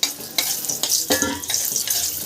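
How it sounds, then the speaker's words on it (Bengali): Lentil dumplings (bori) fry in hot oil, giving a quiet, close sizzle with short pulses of stirring and spatter. "তেল গরম হয়ে গেছে তেলের মধ্যে এবার আমি বড়িগুলোকে ভেজে নেবো লাল লাল করে"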